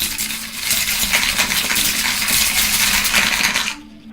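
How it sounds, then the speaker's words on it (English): Dice tumble one after another into a crystal dice tower, making a dense, steady stream of bright clicking and tinkling clatter that stops near the end, with no talking. "Take a few dozens of dice and throw them one by one."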